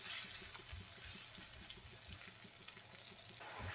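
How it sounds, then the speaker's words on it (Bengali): Spice paste sizzling and frying in a pan while being stirred for a Bengali pangas fish and taro stolon curry, a steady close hiss with faint scraping, no talking. "মশলাটা একটু কষিয়ে নেব।"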